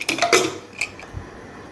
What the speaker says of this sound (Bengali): এবার প্রেসারের লিডটা আমি দিয়ে দেব